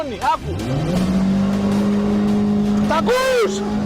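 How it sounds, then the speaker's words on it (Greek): A car engine climbs and holds at a steady, loud rev, with the car driven in spins, its tone sliding up at the start and dipping then rising again near the end. "το αμάξι δουλεύει καλά."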